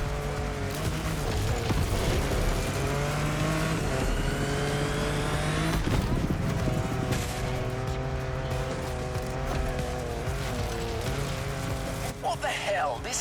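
A car driving hard off-road, its engine droning and revving loudly and continuously with shifting pitch as it climbs and changes gear, while someone talks over it.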